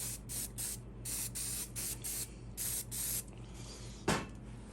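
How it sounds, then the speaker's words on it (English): Hairspray hisses from an aerosol can onto model trees made from dried sedum for a slot car layout, in a series of short repeated bursts followed by a sharper final puff, close and steady. "I'll go ahead and add a little bit more hairspray and to help lock that down"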